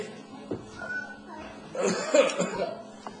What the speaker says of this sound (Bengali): তোমার না কাশি লাগছে